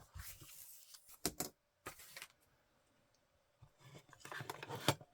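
Scissors snipping excess white paper from a piece of craft-kit ephemera, a few quiet crisp cuts in short bursts separated by near silence.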